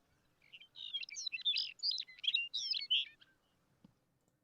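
Several wild bird calls from a bird-guessing game, a run of bright chirps and warbled tweets alone for about three seconds, fairly close and clear, then trailing into quiet.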